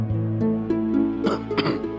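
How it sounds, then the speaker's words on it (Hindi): A person coughs and clears their throat indoors, a few close, harsh bursts in quick succession over a short stretch. "अचानक कैसे खांसी हो गई?"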